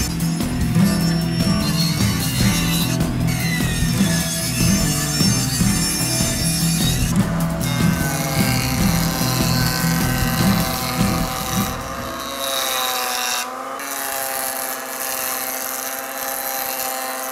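A bandsaw fitted with a coarse-tooth blade resaws salvaged truss beam wood with a loud, steady whining buzz, then the cut ends and the motor keeps spinning more lightly before winding down.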